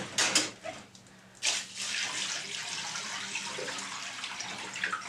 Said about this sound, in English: I'm going to dump all this junky water out